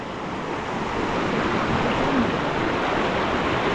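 Steady, full-bodied rush of water, loud and continuous throughout, like a fast river close by with no voices; a swollen, cold river.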